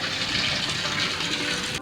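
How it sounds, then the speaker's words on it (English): Water gushes steadily out of a flooded boat as it is bilged, the hull swamped with its windshield broken, making a loud, continuous, close splashing rush without pause. "So there it is, bilging out. And as you can see, the boat's completely full of water."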